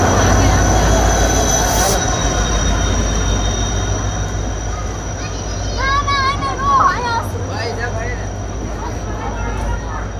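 A passenger train pulls into Bavla railway station in Gujarat, rumbling loudly and steadily up close while its wheels squeal in high, wavering bursts partway through, with people talking nearby.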